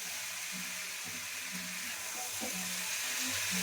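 Dried red chillies sizzling in hot oil as a tempering, a steady soft hiss of frying with faint stirring clinks underneath, close and continuous.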